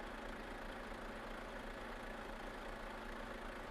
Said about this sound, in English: There's really no other engine sound that we can use for this truck.